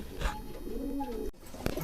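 Pigeons of breeds such as Madras and Rampuri coo softly inside a full loft, a low rounded call close by with faint background noise and a brief knock near the end.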